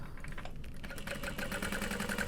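A domestic sewing machine runs steadily, stitching through the layers of a fabric hobo bag with a quick, even mechanical rattle that stays close and loud throughout, with no talking.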